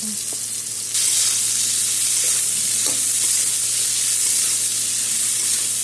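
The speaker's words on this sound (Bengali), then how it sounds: "আলুটা ভাজা করে তারপর আমি পেঁয়াজটা দিয়ে দেবো" Chopped onion hits hot oil in a pan of already fried potatoes, a loud steady sizzle that jumps up in intensity after the first second and stays strong, with faint stirring clinks.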